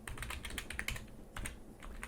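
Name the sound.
typing a file name on a computer keyboard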